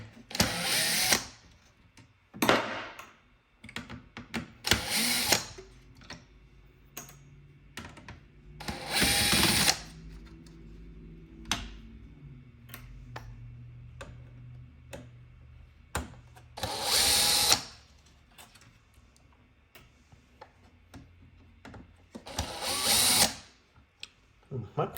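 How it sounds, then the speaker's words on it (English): A power drill fitted with a screwdriver bit removes screws from a Lasko CT30711 tower heater, several short motor whirs in bursts separated by quieter handling clatter, fairly close. "I will use my drill."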